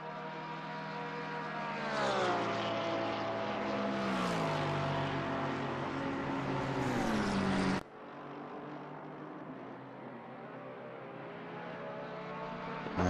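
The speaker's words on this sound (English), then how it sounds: "the low rumbling V8 of the Lexus RCF GT3" Lexus RC F GT3 race car with a V8 engine in a racing sim at Watkins Glen, a loud continuous engine drone whose harmonics climb and fall through gear changes, then cuts abruptly to a steadier, flatter engine roar from another car.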